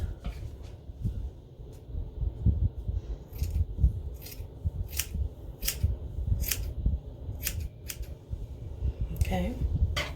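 Scissors snipping through hair at home during a haircut, a series of sharp close snips over soft rustling and handling noise.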